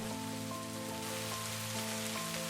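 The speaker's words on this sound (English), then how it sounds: "It's really raining." Rain falls steadily as a soft, continuous hiss beneath sustained musical tones, with no voices.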